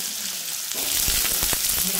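Potatoes sizzle in hot oil with cumin seeds and bay leaf, a close, bright crackling hiss broken by a few soft knocks from stirring.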